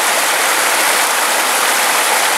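Water from the Suuçtu waterfall and the stream beside it rushes in a loud, unbroken broadband roar, close and steady with no voices.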